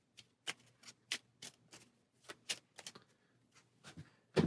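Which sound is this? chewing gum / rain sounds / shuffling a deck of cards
shuffling a deck of cards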